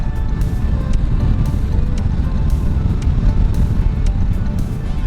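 A motorcycle cruising with an ATLAS throttle lock engaged gives a steady engine drone mixed with strong wind rush over the microphone, continuous and loud, with no speech.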